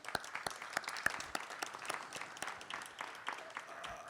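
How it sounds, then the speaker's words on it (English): A crowd applauds steadily at the grand opening of new affordable housing at 490 South Van Ness, with dense, even clapping that stays moderately loud throughout without any talk on top. "I think they deserve a big round of applause"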